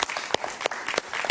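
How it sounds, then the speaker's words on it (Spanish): Studio audience applauding a guest on a television interview show, a short burst of brisk, steady clapping from a moderate crowd. "Un aplauso para él, por favor"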